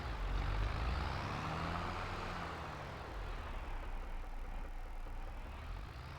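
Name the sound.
tractor engine in a farming video game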